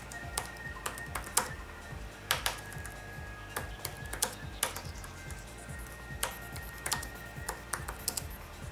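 Fingers tap on the physical accessory keyboard of an Acer Iconia W700 tablet, a close, uneven patter of quick plastic key clicks in short bursts with small pauses between them, and no voices.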